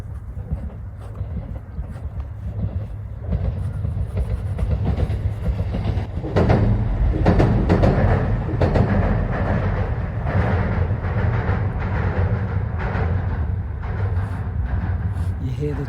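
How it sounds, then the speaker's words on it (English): A train passes close by, a loud rumbling roll with rhythmic clickety-clack of wheels on rails that swells midway and stays heavy to the end. "You hear the train"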